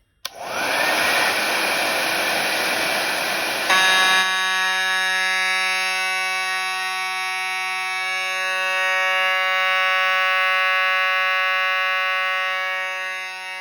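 A hairdryer whooshes for a few seconds to heat a detector, then a Fire-Lite MS-5UD fire alarm system sounds a loud, steady electronic tone that continues unbroken and alone to the end.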